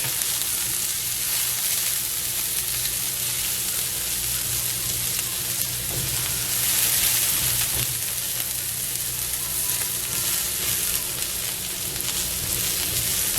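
Peppers and onions cook in a hot pan, giving a loud, steady, dense sizzle that barely changes over time, with faint occasional ticks and no voices.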